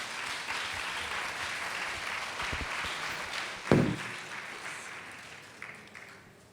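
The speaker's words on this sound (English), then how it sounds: "let's give another round of applause to Leah Murphy and Paul Levy," An audience at a talk about transforming Philadelphia claps steadily in a moderate, even round of applause that tapers off toward the end.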